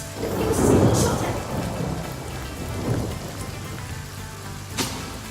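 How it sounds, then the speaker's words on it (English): A rain spell cast in the Divinity: Original Sin video game brings steady rainfall with a heavy rumble of thunder rolling in early, then a softer second rumble and a sharp crack near the end. "I make it rain."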